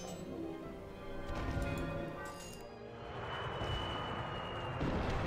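Airplanes attack in the strategy game Rise of Nations, their engines droning and rumbling at a low level under clinking battle effects, with the roar swelling again toward the end.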